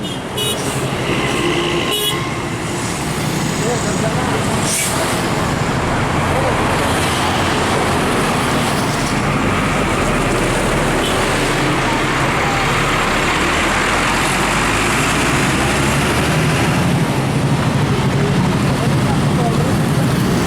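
A bus pulls out of a bus terminal, its engine and road noise rising into a broad, steady rumble that stays loud and close, with people talking in the busy surroundings.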